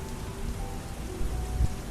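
Steady rain falls with a dense, even patter and a low background hum, continuous and fairly close throughout.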